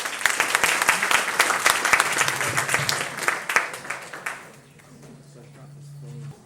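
Wedding guests at a nikkah reception clap in a dense round of applause that fades after a few seconds, leaving a low hum and quiet room noise.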